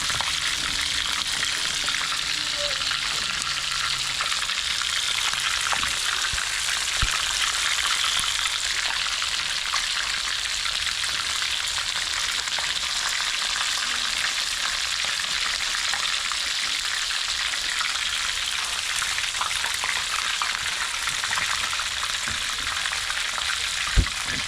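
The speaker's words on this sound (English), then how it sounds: "then now we cook them down in a coconut juice and curry" Crab simmers in a pot of coconut juice and curry during Jamaican island cooking, giving a steady, close bubbling sizzle that runs unbroken the whole way with no talking.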